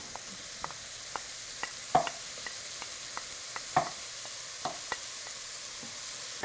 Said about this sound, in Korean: 나머지 기름은 포도씨오일로 한 큰술을 넣었어요. 그래가지고 함께 다 같이 볶아주시면 돼요.